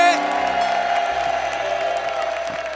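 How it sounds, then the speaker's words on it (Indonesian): A television talent show studio crowd applauds and cheers steadily, with whoops rising over the clapping while a sustained musical tone hums underneath. "Tepuk tangan sekali lagi buat Rina Nose."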